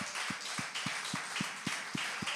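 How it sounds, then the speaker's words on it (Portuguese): A church congregation claps in unison in a steady rhythmic beat, roughly four claps per second. The sound is moderately distant and fills the room, with no talking over it. "Vamos aplaudir ao Senhor."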